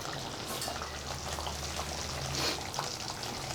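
Tomato chutney with chili powder, turmeric and salt simmers in a pan, giving a soft, steady bubbling and sizzling hiss with faint popping, close and uninterrupted.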